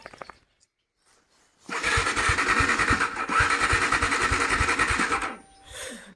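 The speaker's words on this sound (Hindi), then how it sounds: "बाइक नहीं ऑन हो रही है, वरना तो -4-6 में भी एक बार में ऑन हो गई है" A motorcycle engine in freezing cold cranks with rapid, sputtering turnover for several seconds, pauses briefly, cranks again and stops without catching, loud and close.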